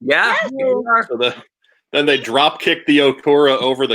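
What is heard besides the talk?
None of the usual background noises is heard.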